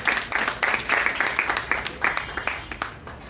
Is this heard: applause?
yes